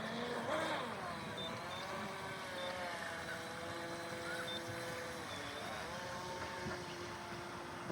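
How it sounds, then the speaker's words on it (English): A 25-inch stepped-hull RC boat runs under power on water, its small motor giving a steady high whine with shifting pitch across the whole stretch, heard from a moderate distance with faint outdoor background. "It's steering under power this time."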